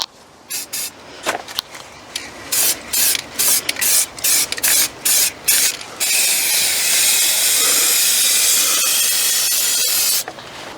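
A spray can hisses in short bursts while a coat of paint goes onto a Ford Fiesta Mk6 part. The bursts are followed by one long continuous spray, loud and close, with no talk.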